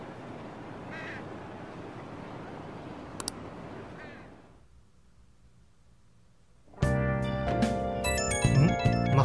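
A mobile phone rings inside the video game Persona 5 Royal, a loud, bright electronic ringtone bursting in suddenly after a few seconds of ambient game background and a quiet pause, then continuing to the end.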